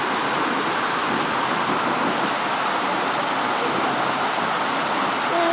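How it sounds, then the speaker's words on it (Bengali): Steady rain falls outside, a dense, even hiss of heavy downpour close by that continues without a break, with no voices. "বাইরে বৃষ্টি হচ্ছে"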